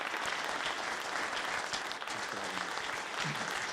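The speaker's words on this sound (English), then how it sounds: "Let's give Jim a round of applause and thank him." A community talk audience gives a speaker a round of applause, a thick, continuous clatter of many hands filling the room, with faint voices murmuring beneath it toward the end.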